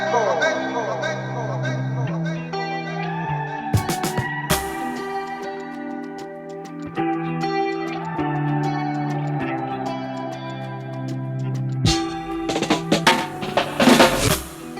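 Afrobeat instrumental with layered percussion, bass and synth lines, drenched in effects, with drum rolls bursting in near the end.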